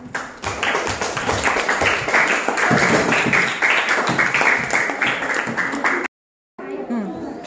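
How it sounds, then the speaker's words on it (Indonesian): An audience applauds after a classroom science presentation, with many hands clapping loudly and steadily for about six seconds before a brief silence and a little more clatter. "Oke, kita berikan aplaus."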